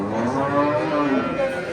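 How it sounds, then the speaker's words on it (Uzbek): A cow at the Beshariq cattle market gives one long, drawn-out, fairly loud moo with faint crowd murmur behind it. "Sigir mana. Balasi novvos ekan."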